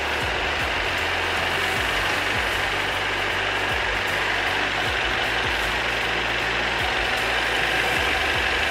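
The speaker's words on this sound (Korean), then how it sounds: "엔진 소리 일정하고 좋습니다" Idling Mercedes-Benz C200 W205 Cabriolet engine with the bay open, giving a steady, even low hum with a faint ticking texture that holds constant and close throughout, with no talking.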